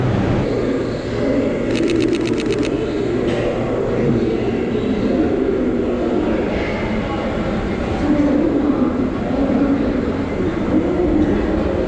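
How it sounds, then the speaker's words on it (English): A subway train in an underground station, loud continuous rumble and rolling roar with rail clatter throughout, plus a brief rapid run of high clicks early on. "I love the energy in the subway station."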